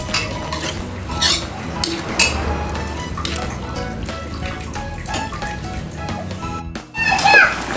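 Bamboo shoots and long beans stirred in a pot of simmering broth for lodeh, with utensil clinks and scraping against the pot, mixed with a voice and household background noise.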